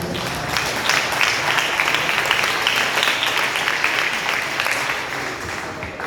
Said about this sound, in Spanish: Un aplauso al Señor de la gloria.